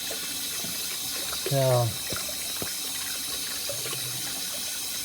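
Water rushes steadily as it flushes gunk out of a 1948 Morris 8, with a short spoken word partway through.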